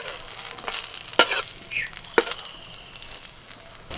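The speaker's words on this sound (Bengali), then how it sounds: "এইভাবে উল্টে পাল্টে একটু দুদিক লাল করে ভেজে নিতে হবে।" Bread slices frying on both sides over low heat in a pan with very little oil, a soft continuous sizzle broken by two sharp clanks of the spatula flipping and scraping, no talking.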